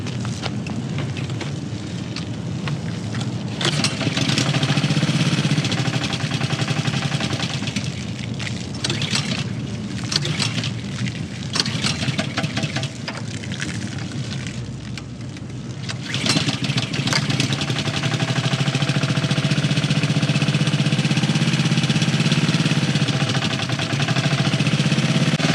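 A pressure washer engine runs loudly and close for the whole stretch, with a steady rough drone that surges and dips unevenly in the middle before settling back into a continuous roar.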